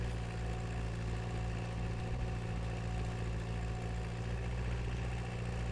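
A small tractor engine runs steadily in the video game Farming Simulator 19, a low, continuous rumbling drone with an even pulse that stays constant and fairly quiet throughout.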